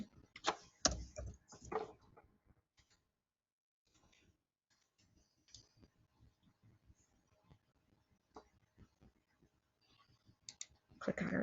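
Mouse clicks on a web page in a library's NoveList Plus database, a series of close, sharp clicks with short gaps and quieter clicking between them, no voice.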